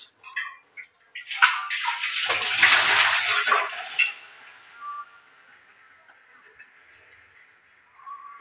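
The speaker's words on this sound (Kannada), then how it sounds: "ಅದಕ್ಕೆ ನಾನು 5 ಕೆ ನೀರು ತುಂಬಿಸ್ಕೊಂಡ್ಬಿಡ್ತೀನಿ." Water filling a vessel from a tap in a home kitchen, a loud close gush lasting a couple of seconds before fading to a thin trickle, with a few faint bumps around it.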